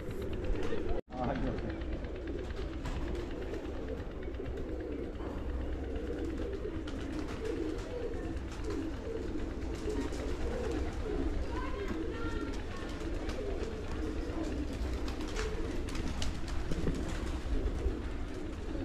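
Soft pigeon cooing repeats through a long stretch of outdoor background noise while a person talks, with a sharp knock near the start.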